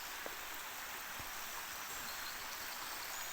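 Steady broadband rush of a river flowing through woodland, close and continuous, with a few faint knocks and no talk.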